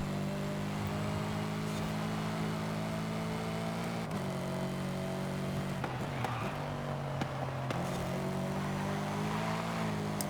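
A Lexus RC F Track Edition race car driven in the Forza Horizon 5 video game, its engine droning steadily at high revs with brief shifts and pitch changes, continuous and up close.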